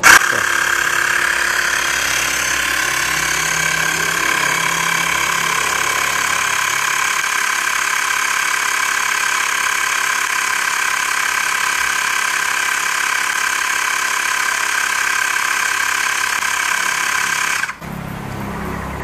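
A Xiaomi Mijia portable electric tire inflator pumps up a car tire with a steady, close mechanical buzzing drone that runs unbroken for about seventeen seconds before cutting off abruptly.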